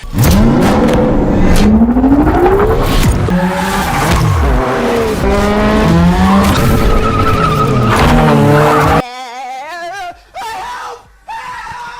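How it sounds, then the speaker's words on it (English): Race cars in the video game Screamer roar and rev with rising engine pitch while tires skid and squeal loudly, the engine noise continuous and close. Near the end it cuts to sparser, tonal engine and turbo sounds. "One of them actually sounds like a turbo for a rally race car."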